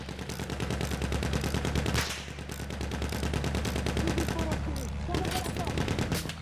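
Rapid automatic gunfire and single shots crackle in a Battlefield 1 match on the Sinai Desert map. Bursts run almost nonstop and sit close and loud, with a brief lull partway through.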